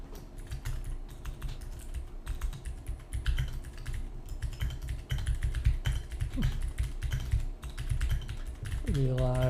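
Rapid clicking of computer keyboard keys as a message is typed, close and fairly quiet, in uneven bursts with short pauses and a low hum underneath.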